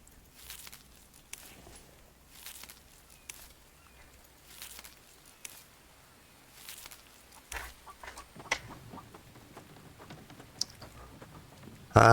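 A chicken clucking in a video game, short faint clucks scattered among footstep taps and clicking over quiet background, with a brief louder burst at the very end.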